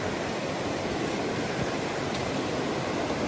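Water in a stream near Vancouver rushes continuously, a dense, even hiss with no break, close and fairly loud.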